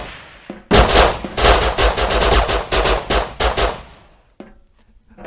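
Automatic gunfire in the survival game Rust, loud and close: a burst of rapid shots for about three seconds, then a few trailing shots before it falls quiet.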